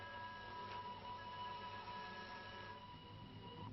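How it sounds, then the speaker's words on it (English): A faint, steady whistle tone drones under a low mechanical hum, sustained for a few seconds before fading slightly. "I thought I heard a train whistle."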